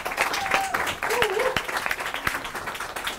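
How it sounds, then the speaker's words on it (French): A church congregation applauds in a sustained patter of clapping with a few sharp individual claps standing out and voices faintly mixed in. "on peut l'applaudir encore une fois"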